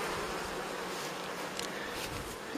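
Hornets and bees at the entrance of a Carniolan beehive, a dense, continuous buzzing hum close by that stays steady and loud throughout with no voices.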